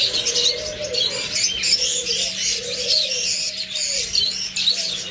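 Pet birds on a farm, creamino and opaline pairs, chirp and tweet in a dense, continuous chorus with soft coos underneath, close and lively, no talking.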